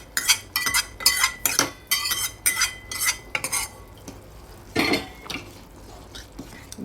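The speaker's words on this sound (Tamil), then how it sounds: "புளியெலாம் ஊற்றி அதை இதில் நான் மிக்ஸ் பண்ணிக்கிறேன்" Utensil scraping and clinking in a cooking pot as tamarind water is stirred into partly cooked vegetables for a traditional kathamba sambar, a series of rhythmic strokes close by, loud and distinct, with no talking.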